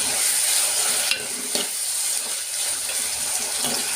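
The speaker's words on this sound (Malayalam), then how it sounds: "രണ്ട് സെക്കൻഡ് നമുക്കൊന്ന് വഴറ്റിയെടുക്കാം." Onion with salt and crushed ginger sautés in a pan, a steady close sizzle with scraping stirs and a few light clinks of the spoon, no voices.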